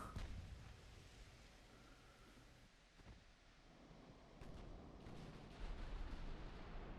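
Naval guns firing in the warship game Ultimate Admiral: Dreadnoughts, scattered booms and distant artillery thumps over a constant wash of sea and wind noise, moderately loud.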